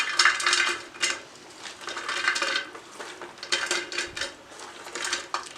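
A metal pressure cooker is handled while onion slices are layered into it, giving close clinks, scrapes and clatters of metal in an uneven rhythm, with no talking.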